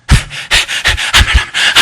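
A voice imitates heavy panting, with rapid loud breathy huffs in a steady rhythm, close and forceful.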